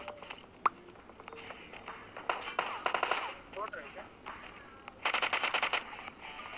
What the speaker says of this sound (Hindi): बहुत देर से फायरिंग आ रही थी भाई